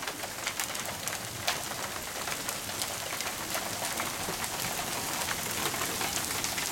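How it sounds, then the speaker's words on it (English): Small pea-size hail pattering down outdoors, a dense, steady crackle of many tiny impacts on surfaces that continues evenly throughout without a break. "the hail!"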